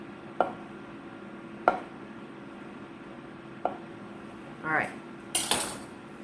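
A knife slices bacon thin on a cutting board in a few separate slices spaced about a second apart, followed by brief scraping and rustling in a quiet room.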